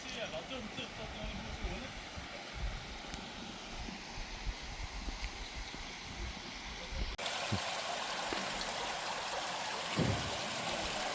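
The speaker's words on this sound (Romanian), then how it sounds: "Ce fântână frumoasă." A fountain in Malmö, Sweden, with water splashing and trickling in a steady wash that grows louder partway through, mixed with outdoor ambience.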